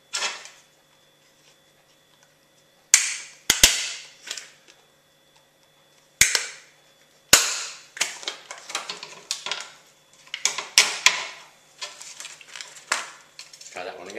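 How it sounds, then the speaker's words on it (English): Stapler punching staples through paper to fix a homemade paper circuit switch in place, several sharp isolated clacks with some quiet handling rustle between them. "So all we have to do with that now is staple it into position."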